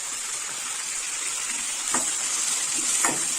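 Tomato sautés in a pan for horse gram chutney, a soft steady sizzle with a couple of brief scraping stirs.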